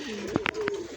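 Pigeons coo softly in a loft where they are kept for breeding, giving a short, low throaty call close by, with a few faint chirps and no talk over it.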